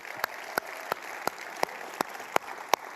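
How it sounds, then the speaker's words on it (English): At a startup accelerator demo day, a few people clap sparsely in a large room. The claps are sharp, separate and fairly faint, landing at a steady, unhurried pace. "So big round of applause to them."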